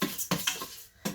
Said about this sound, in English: I'm going to throw in my rice and just coat that in butter quickly